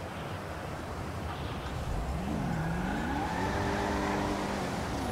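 A car engine in the GTA V roleplay game revs up, its tone climbing in pitch after a couple of seconds and holding a strong, continuous drone over road noise.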